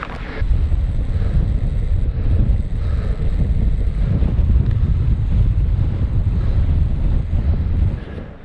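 Strong wind buffeting the microphone high on a Lake District mountain, a constant loud roaring gust noise with no voices.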